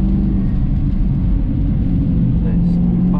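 Aston Martin V8 Vantage engine droning steadily at high revs on Knockhill Racing Circuit, a loud continuous in-car rumble with no clear rise.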